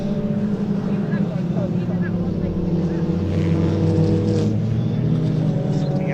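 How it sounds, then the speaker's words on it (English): Supercharged racing pickup trucks circulating at Pembrey circuit, a steady engine drone with a sustained high-pitched supercharger whine layered over it, continuous and fairly loud in the background, with commentary over it. "Hear the whine of the superchargers on these cars in the background."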